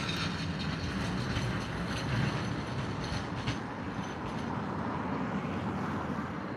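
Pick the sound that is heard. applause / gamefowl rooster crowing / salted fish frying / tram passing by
tram passing by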